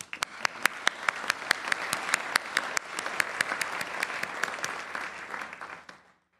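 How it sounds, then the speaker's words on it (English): Audience applause fills the hall at the MCW pharmacy school hooding ceremony: a dense, steady crowd clapping with sharp individual claps standing out, lasting about six seconds before stopping abruptly. "Let's give them a round of applause."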